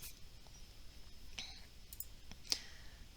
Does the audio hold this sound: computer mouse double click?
yes